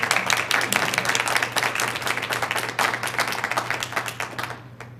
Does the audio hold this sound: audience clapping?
yes